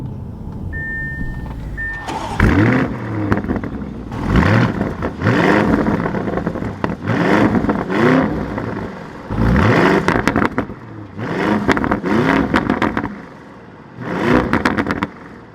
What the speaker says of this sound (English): in order to fire up the Urus, let's flip on this fighter jet switch, push the button up underneath, bring this to life.